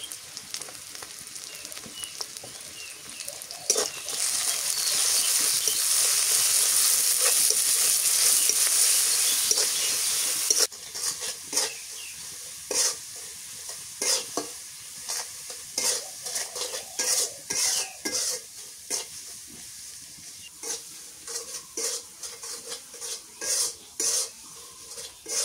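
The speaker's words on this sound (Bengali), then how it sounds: "মরিচ পেঁয়াজ মশলা ভাজা হয়ে গেছে, এবার এর মধ্যে মাছ দিয়ে দিই।" Chili, onion and spices fry on a clay stove: a steady, loud sizzle is followed by repeated scraping stirs of a spatula against the pot in an uneven rhythm, with no talking.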